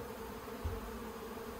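Honey bees drone in a continuous low buzz around an opened hive during a swarm-prevention split, a steady, fairly quiet hum with no voices.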